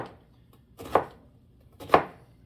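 A knife chops through an onion on a board for a chicken, rice and bean soup: two crisp, close cuts about a second apart, with quiet pauses between.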